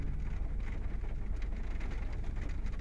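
Rain falls during a storm chase in West Central Texas, a soft, continuous wash of drops with a low rumbling undertone, fairly quiet and unbroken, with nobody speaking.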